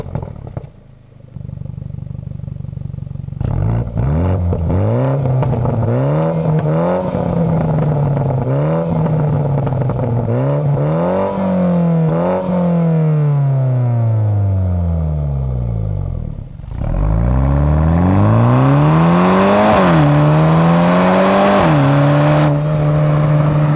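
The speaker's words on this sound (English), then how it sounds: "I'll let you take a listen of this motor real quick." BMW X2 M35i engine revving hard through a twin-outlet exhaust, repeated rising and falling blips close by, with crackles and pops on the overrun, followed by a sustained higher rev near the end.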